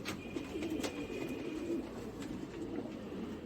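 Paired breeding pigeons coo in a loft, a soft, steady low cooing run close by with a few brief sharper sounds on top, and no voices.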